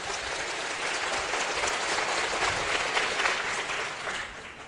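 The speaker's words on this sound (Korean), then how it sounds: "우리 하나님께 감사의 영광 박수를 힘차게 하고 합시다" Church congregation applauding together at a Korean sermon, a steady dense wash of clapping held throughout at moderate volume.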